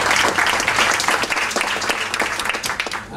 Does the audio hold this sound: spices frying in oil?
no